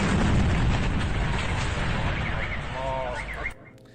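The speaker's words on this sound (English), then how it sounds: "News 24/7 says this is an attack, an airstrike in southern Gaza" An airstrike in southern Gaza sounds as a loud, rumbling blast with broad crackling debris noise, fading over a few seconds, with faint tonal sounds near the end.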